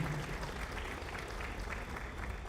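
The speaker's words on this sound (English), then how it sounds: "So we give them a clap for the great work that they've been doing." Audience applause at the Kenya Space Innovation and Investment Forum 2025, a steady, dense clapping that fills the room evenly for the whole stretch at moderate, slightly distant level.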